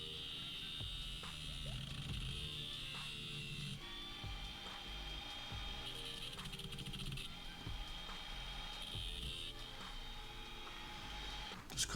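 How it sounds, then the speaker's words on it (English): Angle grinder cutting a groove into the head of a bolt to resemble a flathead screw, a steady high whine with shifting pitch and scraping bursts, close and continuous. "Just cutting that out now with the grinder."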